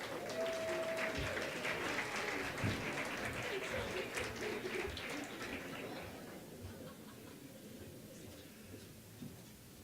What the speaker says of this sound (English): how about a round of applause for both Delmy and Tom?